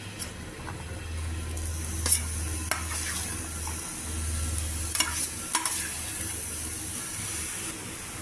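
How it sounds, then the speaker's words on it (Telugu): Boiled cluster bean pieces being stirred into frying coconut masala in a pan, with a steady low sizzle under scattered scraping clicks of a spoon against the pan. "ఇప్పుడు మనం ఉడికించుకున్న బొబ్బరి ముక్కలు ఇందులో మిక్స్ చేయాలి"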